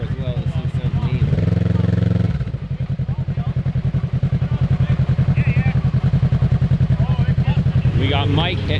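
A side-by-side UTV fitted with a GGB exhaust rumbles loudly and close on a muddy off-road trail, its engine surging and holding a throaty, pulsing drone with brief rev changes.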